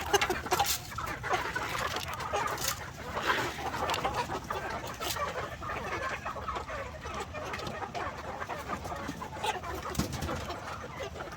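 Shamo, asil and game fowl cross chickens clucking and calling together in a noisy pen, with occasional louder squawks over a busy, continuous background of fowl sounds.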